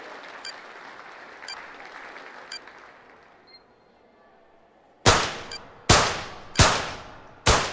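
Four loud, sharp gunshots crack out at steady intervals, each with a short ringing decay, following several seconds of crowd murmur and faint clinks during a shooting event in a London 2012 Olympics video game.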